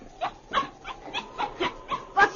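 Small dog yelping repeatedly after being kicked, a radio drama effect set outside a Yukon hotel door: a steady run of sharp, high yips and whimpers, close and alone, with no talk.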